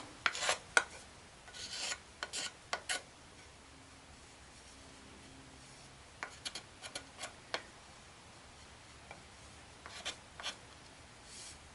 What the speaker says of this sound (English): What I'm doing is I'm just scraping with my knife at about a 90-degree angle.